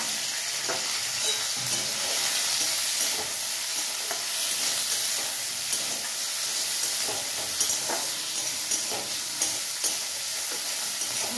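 Tomato and capsicum fry together in a pan with a steady, close sizzle, and a utensil stirring and scraping at intervals throughout. No one speaks.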